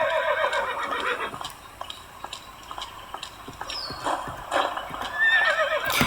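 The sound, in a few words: horse neighing and hooves in Alexandra Ledermann 4 video game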